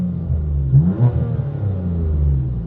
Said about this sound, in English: now that we're in park, you can actually see if I give it some revs